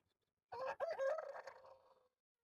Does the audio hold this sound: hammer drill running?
no